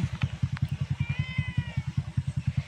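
A single drawn-out cat meow rises and falls over a steady, rhythmic low thumping that runs throughout.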